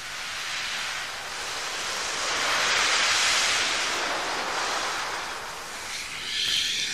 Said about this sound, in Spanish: con este fondo relajante del mar